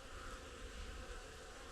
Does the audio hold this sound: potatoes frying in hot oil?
no